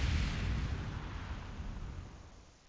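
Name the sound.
root exploding in a video game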